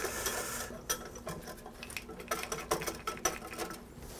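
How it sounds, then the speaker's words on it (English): Whisk stirring a thickening sauce in a pan for a Welsh shepherd's pie: quiet, rapid metallic ticking and scraping strokes in a steady irregular rhythm, faint and close, with no talk. "Whisk this in."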